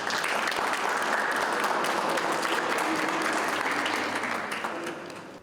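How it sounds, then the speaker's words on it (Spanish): An audience claps steadily to welcome a speaker at an academic nanotechnology lecture, a dense even wash of applause heard from within the room that fades toward the end. "Los recibimos con un fuerte aplauso."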